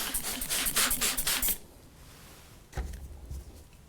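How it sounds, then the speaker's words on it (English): A few quick hissing bursts of glass cleaner sprayed onto a screen-printing screen, close and fairly loud, followed by quiet and then a soft thump with some rustling. "I'm just going to generously spray this onto my screen."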